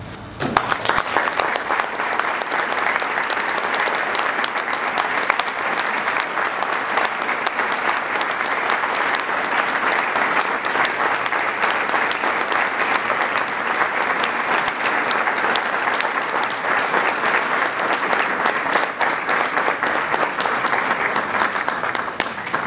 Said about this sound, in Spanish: Pido para ellos y para todas estas personas finalizar a manera de homenaje con un fuerte aplauso.